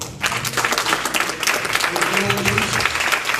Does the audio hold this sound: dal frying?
no